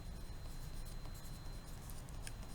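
Close, continuous scratching strokes of a marker or crayon writing a sentence on a classroom board, quiet but steady, with no talking.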